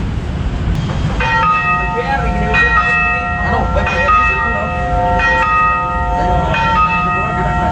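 A long passenger train rumbles past with steady rolling noise near Lamongan station, while a ringing bell or tonal signal sounds repeatedly over it, loud and close.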